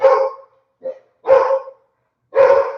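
A dog gives several loud, close barks with a small yip between them, spaced irregularly with silent pauses and heard alone.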